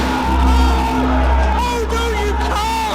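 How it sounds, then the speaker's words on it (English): A shocked crowd at a televised event, loud and sustained: shouting, whoops and bellows blend into a dense roar that carries throughout. "This crowd are shocked. The crowd are in shock."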